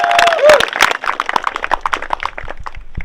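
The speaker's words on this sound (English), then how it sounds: "Give them a round of applause" Audience at the Desert Rendezvous 2024 overland gathering bursts into applause, a dense patter of many hands clapping near and loud with some cheering, tapering off toward the end.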